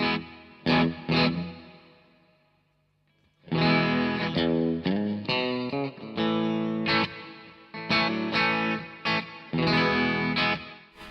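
Hall reverb on a Fender Bassbreaker 15 guitar amp at a fairly clean setting: strummed electric guitar chords ring out with a lingering wash of reverberant tail, a pause, then more rhythmic chords, with no talking.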